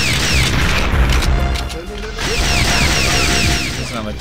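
Rocket launched and exploding in the N64 shooter Perfect Dark, a loud booming blast over dense game sound effects and music, with a second swell of noise after a brief dip.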